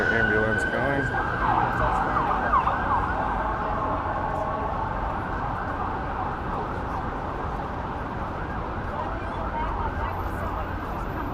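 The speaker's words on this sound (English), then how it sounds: "Got another ambulance going." An ambulance siren on the Las Vegas Strip wails in fast repeated sweeps over steady traffic rumble, loud and close at first, then fading slightly as it moves on.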